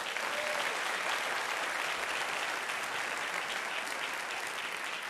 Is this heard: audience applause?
yes